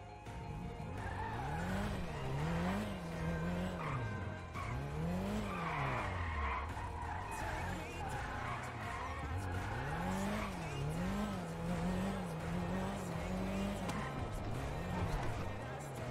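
A sports car in GTA V skids and its tires squeal repeatedly through swerving turns while the engine revs rise and fall continuously, with people talking over it.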